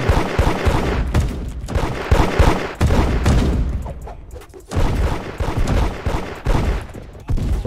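Gunfire in the Roblox game Da Hood: loud bursts of rapid shots in several clusters with short pauses between, close and sharp, without talk.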